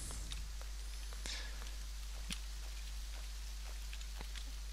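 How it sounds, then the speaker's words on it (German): Rain falling in the video game Green Project, a steady soft hiss of raindrops with occasional small splashes, quiet and continuous with no talking. "Blödes Regenwetter."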